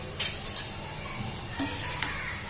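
Surmai kingfish fries in oil with green chillies and curry leaves over a low flame, a soft steady sizzle broken by a few sharp clinks and scraping stirs, close and fairly quiet.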